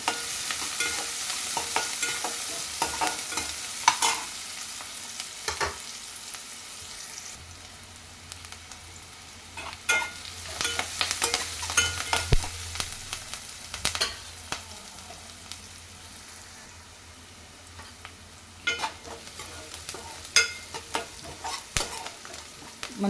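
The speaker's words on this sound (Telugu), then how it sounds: "అయితే మంచిగా వేగిపోవాలండి ఉల్లిపాయ అనేది" Onions with curry leaves and green chillies fry in a pan for okra and chickpea curry, a steady sizzle broken by repeated scraping stirs of a spoon against the metal, close and moderately loud.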